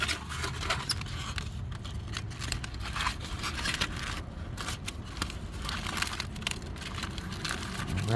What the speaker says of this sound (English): Now we can actually take our nasty aluminum foil out of here.